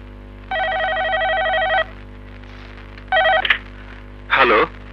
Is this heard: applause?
no